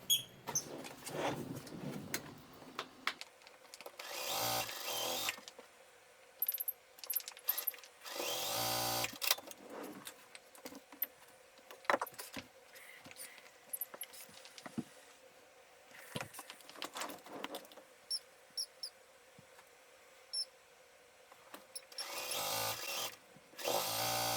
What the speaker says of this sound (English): I will stitch the rest of these out in a faster motion